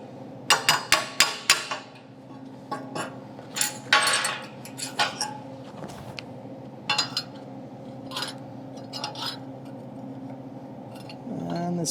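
Quick bursts of light hammer taps on a metal plate, squaring it, come in irregular clusters, ringing sharply over a low steady hum, then fade to scattered single knocks.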